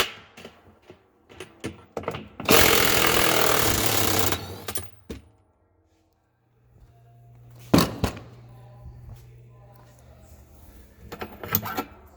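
A 33mm reverse-thread bolt is loosened on a GE/Hotpoint washer gearcase with a loud burst of mechanical rattling, followed by a low hum and sharp clanks.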